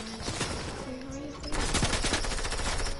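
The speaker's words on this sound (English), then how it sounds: "Shooting us from up on the hill." Rapid video-game gunfire from players being shot at from up on a hill in a shooter match, dense bursts of automatic fire that grow louder midway, with voices faintly mixed in.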